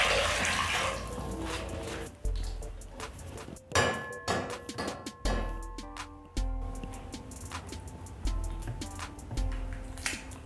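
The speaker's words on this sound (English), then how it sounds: "Add in the cold water." Cold water poured into a metal pot of boiled eggs, with sharp clanks and rattles of the eggs and pot over a splashing, running stream of water, close and fairly loud, with uneven bursts throughout.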